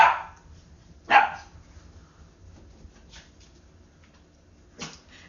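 A dog barks three separate times, sharp and fairly close, with short quiet gaps between the barks and no talking.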